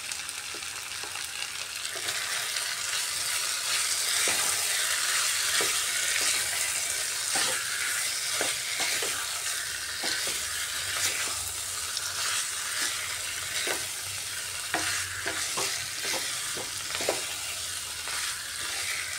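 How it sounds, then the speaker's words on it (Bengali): Potatoes frying with spices and Kashmiri chili powder in a wok, a constant sizzle with intermittent scraping stirs of a spatula, close and steady, no voices. "ভালোভাবে কষিয়ে নিয়েছি, মশলাটাও খুব সুন্দর লেগে গেছে আলুর সাথে"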